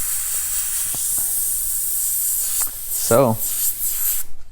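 A Master S62 siphon-fed dual action airbrush sprays with a steady, close, airy hiss throughout, while a voice briefly speaks near the end.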